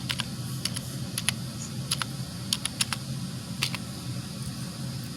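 Irregular keystrokes on a computer keyboard: quick clicks and short bursts of typing over a low steady hum in a quiet room, no talking.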